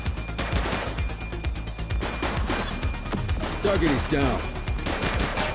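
Rapid gunfire in The Precinct, a police video game, with repeated close, loud shots crackling in bursts over busy game noise while a voice speaks briefly.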